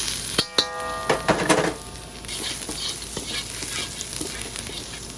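Garlic and chili hit hot oil in a pan for Thai drunken noodles, giving a sharp crackle at first and then a steady sizzle, with a few close utensil clinks and no talk.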